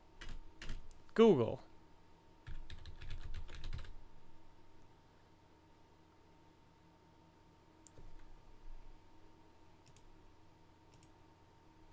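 Keys clatter on a computer keyboard in a quick burst of close typing while entering an address into the Windows 7 hosts file, followed by a few scattered clicks and a brief spoken word over faint room hum.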